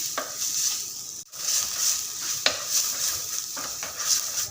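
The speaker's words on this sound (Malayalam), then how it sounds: "ഉള്ളി നല്ലോണം വഴണ്ട് വരുന്നുണ്ട്." Onions sauté in a pan for a red pomfret fish curry, a soft steady sizzle broken by several sharp spoon scrapes and clinks as they are stirred up close.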